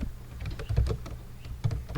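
Rapid keystrokes on a computer keyboard while writing C++ code, a brisk, uneven patter of clicks in short bursts, close and clear.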